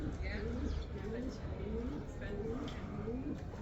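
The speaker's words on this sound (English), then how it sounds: "Close your eyes, listen to the birds of peace." Pigeons or doves coo softly and repeatedly at the Western Wall in Jerusalem, under steady outdoor crowd murmur and voices.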